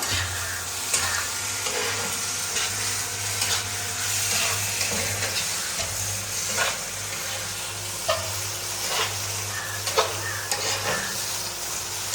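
Spices with garam masala, cinnamon, cloves and cardamom sautéing in oil for mutton korma, a steady close sizzle with intermittent scraping strokes of a spoon against the pan.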